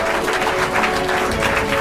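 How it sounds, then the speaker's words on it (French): An audience at a personal development conference applauds, a steady wash of clapping that fills the short moment with no speech over it. "Applaudissez-vous, applaudissez-vous vous-même!"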